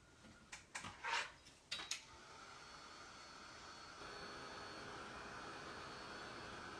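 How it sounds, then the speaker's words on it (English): A few short knocks and clatters, then a steady loud blowing roar of a hand-held dryer drying a wet reverse stencil, running on without pause. No talking. "Let's hit that with the dryer real quick."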